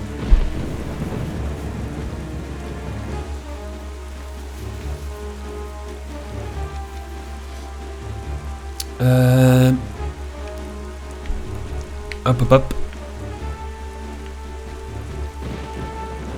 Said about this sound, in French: vu qu'il y a de la tempête et tout